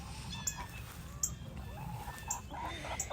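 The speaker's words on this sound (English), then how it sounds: "they're all going to start coming up to me because they're actually very friendly chickens" Friendly backyard homestead chickens cluck softly at a distance, with short scattered clucks and brief higher calls over a low ambient hum, fairly faint and without speech.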